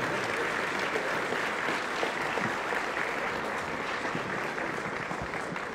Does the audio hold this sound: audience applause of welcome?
yes